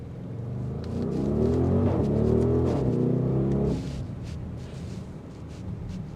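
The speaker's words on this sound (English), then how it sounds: "A symphony to my ear, a bi-turbo V8 with this much power." An Audi RSQ8 Performance with its bi-turbo V8 pulls hard on a track, a deep loud rising engine roar that holds for several seconds, then drops away to a softer rumble with wind noise.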